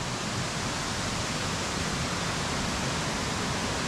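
A Hawaiian waterfall pours in a dense, steady broadband roar that stays even and loud throughout, with no talk over it.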